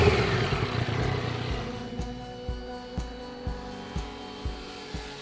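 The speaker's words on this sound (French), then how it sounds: "L'échappement, très travaillé de forme, l'est aussi niveau sonorité, laquelle est profonde et expressive" Deep exhaust burbling from a 2014 Yamaha MT-09 motorcycle, with a series of evenly spaced throttle blips popping out over a low idle rumble.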